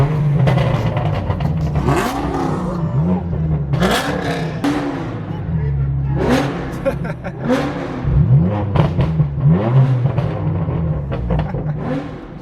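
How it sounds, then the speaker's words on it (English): A straight-piped BMW M4 F82 revs its engine in a few sharp bursts over a throbbing idle, loud and close, with voices chatting in the background between revs. "But first, we're gonna give a couple revs."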